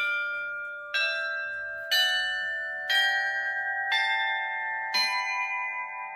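A large cast bronze bell at a foundry rings six times at steady one-second intervals, each strike bright and metallic, its long resonant hum carrying over into the next.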